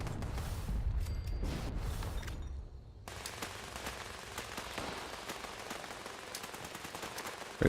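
Gunfire in the video game Fallout 76: a dense run of sharp shots, some rapid and some spaced, over a stretch of crackling game ambience.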